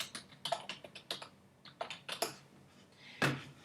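A computer keyboard is typed on while entering a reason in an appointment entry form, making quick, irregular clicking keystrokes, close and fairly soft, with a louder key press near the end.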